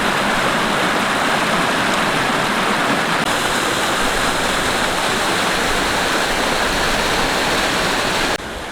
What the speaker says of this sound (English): the waterfall making its way down to the upper lake